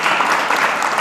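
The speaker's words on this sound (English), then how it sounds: "You can applaud for Thatcher, he's a good person." Audience applause for Mayor Thatcher Keyser of Amesbury at a municipal management roundtable, a steady one-second burst of dense clapping from a seated crowd.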